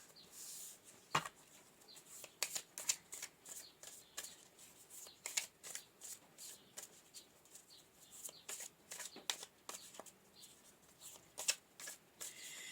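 Tarot cards being shuffled by hand give a quick series of crisp riffles and soft slaps in an irregular rhythm. They sit close and fairly quiet over faint room hiss, with no talking.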